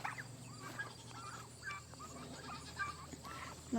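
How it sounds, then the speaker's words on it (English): Several turkeys, including toms, gobbling in a pen, repeated rattling gobbles at a steady pace, faint and somewhat distant over a low background hum. "Let's take a look"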